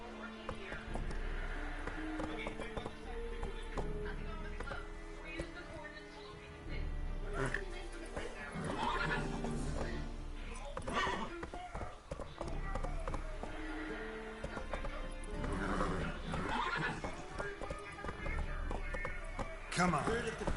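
Horse neighs and hoof clip-clops from a video game, played on a PS4, sound through busy game music and effects, with a person talking over much of it.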